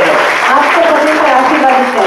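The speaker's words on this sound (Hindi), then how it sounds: "उनके लिए ताली बजाओ।" A church congregation at a packed Kurla service applauds in a steady, dense burst of clapping that carries through the whole moment.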